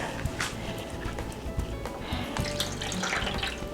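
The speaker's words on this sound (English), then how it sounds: "you just kind of submerge it in the water" A chalk eraser is pushed down into water, giving continuous sloshing, trickling and dripping splashes with small irregular knocks, close by and fairly loud, with no talking.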